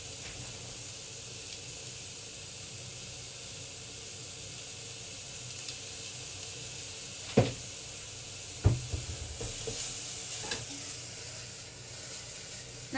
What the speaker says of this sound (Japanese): このごま油でネギとニンニクを炒めてるこの感じ最高です。